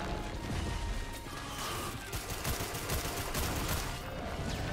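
Rapid automatic gunfire from enemy flyers in Risk of Rain 2, a dense continuous rattle of shots with crashes and mechanical clatter throughout, loud and close.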